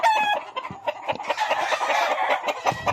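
Tethered grey brood cocks crow loudly and close by, with several overlapping crows mixed with clucks and short calls in a busy farmyard chorus.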